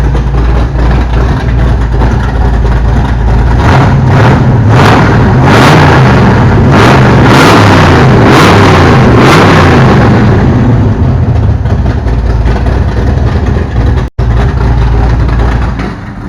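A big-block Chevy V8 in a 1933 Pontiac revs loudly with its remote-controlled exhaust cutouts open, a heavy low rumble swelling in repeated bursts before settling back to a steady idle.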